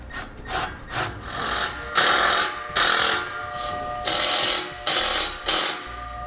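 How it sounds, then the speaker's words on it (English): A hand tool cranks a clamp down over the heat shield on a 2016 GMC Sierra during an Air Lift LoadLifter air helper spring install, giving loud rhythmic ratcheting strokes in about eight bursts, close and without talk. "tighten the clamp down"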